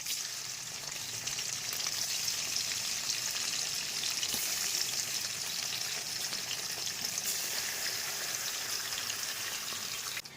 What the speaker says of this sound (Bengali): আর এইখানে আমি ইলিশ মাছগুলো আজকে হালকা করে প্রথমে ভাজবো